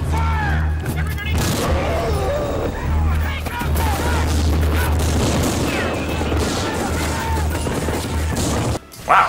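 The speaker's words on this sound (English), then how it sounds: "they nevertheless manage to riddle him with bullets" Video-game gunfire in Destiny 2 as armed men riddle a hulking masked slasher with bullets, a dense continuous fusillade of shots and crashing booms layered over a heavy low rumble, loud and sustained for several seconds before a brief drop near the end.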